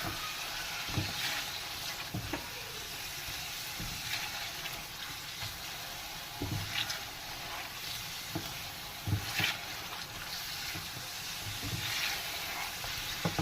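Chicken pieces roast in a pan with chilies for a cheesy chicken handi, giving a steady close sizzle with spoon clanks and scrapes against the pan every second or two.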